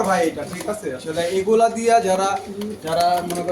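Racing pigeons coo in a low, repeated murmur throughout, mixed with someone talking close by over most of the sound.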